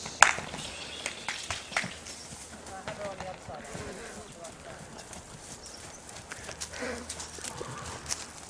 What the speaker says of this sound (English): Really nice canter on it.